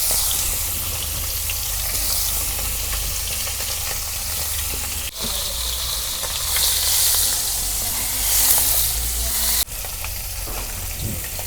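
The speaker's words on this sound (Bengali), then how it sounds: "আমি মাছ ভেজে নিতেছি" Koi fish frying in a pan for a village-style koi with taro stolon dish, a steady loud sizzle continuing throughout at close range, broken by two brief clatters as the fish are moved, no talk.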